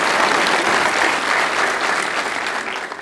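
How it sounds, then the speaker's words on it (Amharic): A church audience applauds a pastor, a dense, sustained round of clapping that stays loud and even throughout. "አዎ አጨብጭቡልኝ በደንብ"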